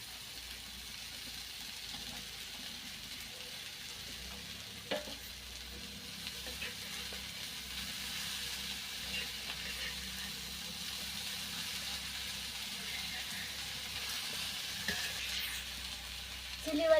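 Chitrak shoot vegetable tipped into fried onions in a pan over a wood-fired stove gives a steady, fairly quiet sizzle and frying hiss, with light stirring scrapes throughout and no talking.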